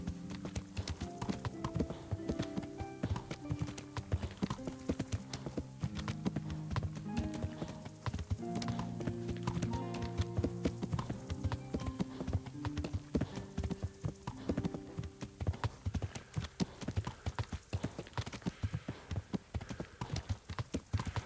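Horse hooves clip-clopping steadily at a riding pace in the Kingdom Come Deliverance video game, a continuous rhythmic patter of hoof falls that runs the whole stretch, close and fairly even.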